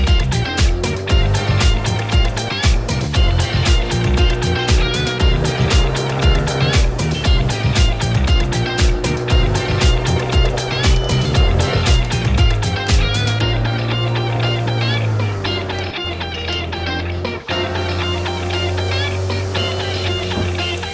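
An 18-horsepower outboard engine drives a small boat at a steady, loud drone with a constant pitch, running without a break and with no talk over it.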